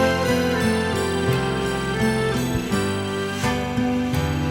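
Strummed acoustic guitar with equalization applied, bright, crisp treble, chords changing steadily in a continuous rhythm, played alone.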